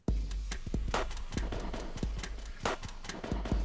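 A drum track runs through an Omnisphere Refractions effect, so its steady kick and snare hits come out blurred and smeared by a dense, shimmering wash that fills the gaps between beats.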